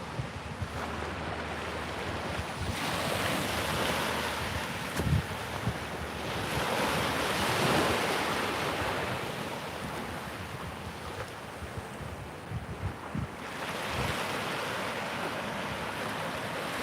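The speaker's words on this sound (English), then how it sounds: "On the private beach here." Waves break and wash up a beach at Kamakura, Japan, in loud rolling surges. Two or three swells build and fade in turn, with strong wind buffeting the microphone throughout.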